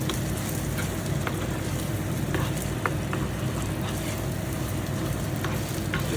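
Biko, a sticky rice cake, is stirred and fried in oil, giving a steady, close crackling sizzle with faint scraping clicks from the stirring and no talking.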